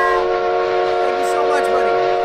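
A train whistle sounds as a subscriber alert during a League of Legends replay review, a steady loud multi-tone blast held for about two seconds, with faint talk underneath.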